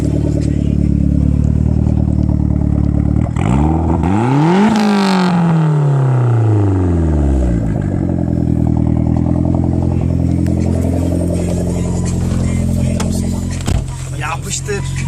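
A turbocharged Rover 220 car exhaust roars loud and close, climbing through a long rising rev that peaks, falls away and builds again, with engine clatter throughout.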